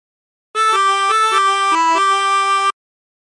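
A 16-hole tremolo harmonica plays a short phrase of Battle Hymn of the Republic, a few sustained, wavering reedy notes stepping between pitches, close and clear with no talk.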